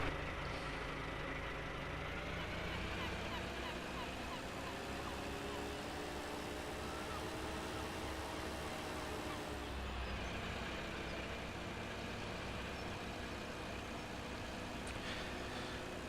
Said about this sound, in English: Let's get our tractor out.